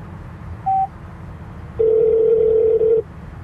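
Dialing and connection tones from a 2005 GM OnStar in-car system: a short beep followed by a longer steady tone, clear and close with no talk.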